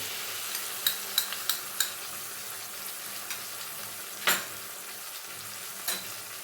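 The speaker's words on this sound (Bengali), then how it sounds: "কর্নফ্লাওয়ারটা দিয়ে একটু এইভাবে নাড়তে থাকবো তাহলে গ্রেভিটা মোটা হয়ে যাবে" Cauliflower manchurian gravy thickened with cornflour is stirred in a pan, giving a low steady simmer with a few sharp spoon scrapes and clinks scattered across it, fairly quiet with no talking.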